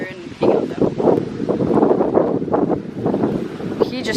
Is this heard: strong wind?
yes